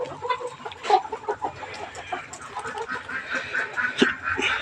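Chickens clucking in a caged poultry farm, a steady chorus of overlapping clucks and calls with one sharper squawk near the end, close and busy throughout.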